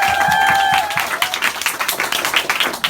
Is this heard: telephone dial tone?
no